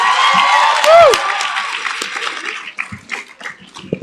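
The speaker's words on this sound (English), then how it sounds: "Let's give another round of applause to the class of 2022." Applause and cheering from a graduation ceremony audience for the class of 2022, a dense, loud wash of clapping with a whoop rising over it early on, then thinning toward the end.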